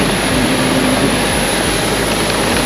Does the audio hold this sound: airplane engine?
yes